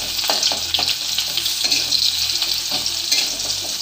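Onions fry in a pan with a loud, continuous crackling sizzle, broken by occasional scraping stirs, close up and with no talking.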